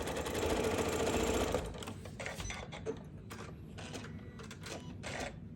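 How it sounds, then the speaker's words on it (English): Sewing machine back stitching the pieces of a small baby quilt: a loud, fast steady stitching rattle for about a second and a half, then lighter, stop-start bursts of stitching. "the reason that I am back stitching on this little quilt is because it is for a baby"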